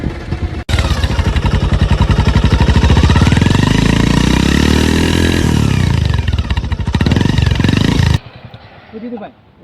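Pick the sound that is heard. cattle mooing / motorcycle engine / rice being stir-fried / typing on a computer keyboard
motorcycle engine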